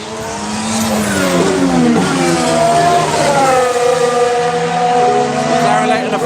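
Formula 1 cars, a McLaren then a Ferrari, scream past at the Barcelona circuit during testing, high engine whine rising and falling as they sweep by close, with a voice talking over it.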